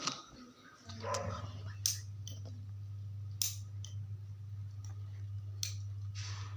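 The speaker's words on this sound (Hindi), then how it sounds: "इस तरह से आप कैंची को भी इसी तरह से धार लगा सकते हैं।" Scissors snip through an empty medicine blister wrapper to sharpen their blades. A few crisp cuts come roughly every one to two seconds, close and clear, over a steady low hum.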